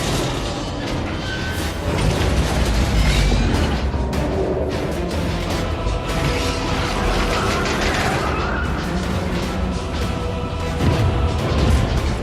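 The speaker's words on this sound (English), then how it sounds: "A massive explosion tore the night sky apart" A massive, rumbling explosion with sustained roaring, crashing debris and booming that fills the whole stretch loudly and densely.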